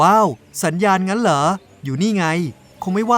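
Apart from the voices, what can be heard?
No everyday noise stands out behind the speech.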